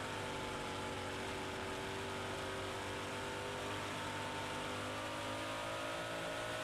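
Dirt track race cars at Volusia roar steadily past, engines droning with a continuous rising whine under a constant wash of noise, and no talking heard.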